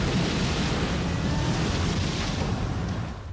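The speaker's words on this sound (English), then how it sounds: "a sudden and violent windstorm, White Squall" A violent windstorm at sea from the film White Squall, a dense roar of gusting wind and crashing waves, loud and unbroken, easing slightly at the very end.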